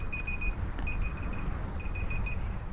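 An alarm beeps in repeated bursts of short high-pitched tones, three quick clusters separated by pauses, over a steady low background hum with no talking.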